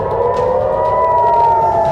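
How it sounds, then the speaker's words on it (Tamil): An air raid warning siren sounds in Israel, a loud sustained wailing tone that holds steady and rises slightly in pitch, heard alone from a fair distance. "மக்களுக்கு உடனடியாக சைரன் ஒலி மூலமாக எச்சரிக்கை செய்தியை இஸ்ரேல் அரசு அனுப்பியது."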